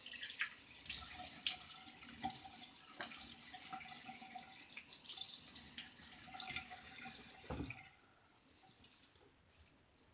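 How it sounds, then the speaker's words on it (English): A bathroom tap runs steadily while a travel razor is rinsed under it, the stream breaking with small splashes and clinks before the water shuts off and only faint drips remain. "And a quick rinse."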